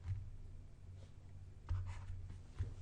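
A hand writing out an equation, soft pen strokes scratching faintly in a few short bursts against a low steady hum.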